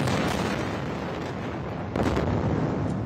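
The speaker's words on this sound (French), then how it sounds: "Le ciel de Gaza ce soir et le bruit des explosions." Bombing explosions over Gaza at night rumble as a deep, continuous roar, with a heavier blast swelling in partway through, distant but powerful.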